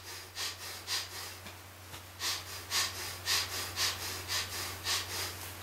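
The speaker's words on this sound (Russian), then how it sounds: "Не старайтесь сильно вдохнуть. Вдох должен быть короткий." Short, sharp nasal inhalations repeated in a steady rhythm during a breathing exercise, about a dozen quick sniffs close to the microphone over a low steady hum, with no talking.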